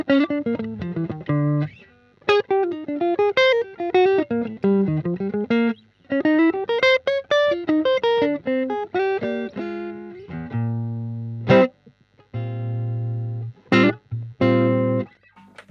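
Electric guitar played through a reissue Fender 68 Vibro Champ practice amp, clean picked melodic runs and arpeggios with rests between phrases, ending in a few strummed, sustained chords, loud and alone.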